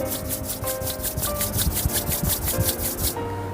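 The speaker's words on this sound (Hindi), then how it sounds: "दोनों हाथों को आपस में रब करेंगे" Palms are rubbed briskly together in a quick run of about fourteen even, close strokes over soft background music.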